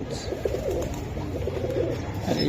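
Close, soft cooing from Giribaz pigeons rolls on in low, repeated throaty phrases, filling the short stretch at a steady level.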